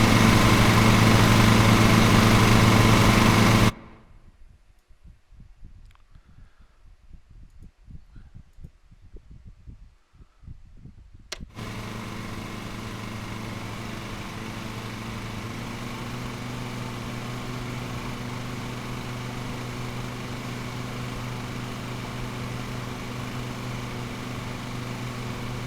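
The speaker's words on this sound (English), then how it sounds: "The audio for the lawnmower" A lawn mower engine in Lawn Mowing Simulator running with a loud steady drone, cutting out to near quiet for several seconds and then resuming its even hum.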